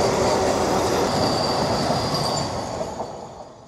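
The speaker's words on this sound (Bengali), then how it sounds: "নিউ ফরাক্কা জাংশনে পাস করছে বন্দে ভারত" An orange Vande Bharat train rushes through platform 2 at New Farakka Junction, a loud continuous roar of wheels and rail noise close by that slowly eases toward the end.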